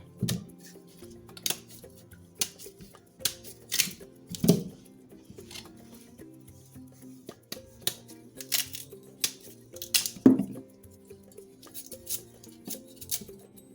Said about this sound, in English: Now we're going to go ahead and peel the cassava